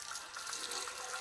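Unpressurized water running from a pressure washer wand with the nozzle removed, a steady soft hissing splash that stays even throughout, fairly quiet and without any voices.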